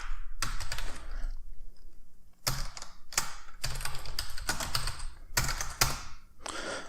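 Typing on a computer keyboard during a Python coding test, with bursts of rapid close key clicks separated by short pauses, loud and alone.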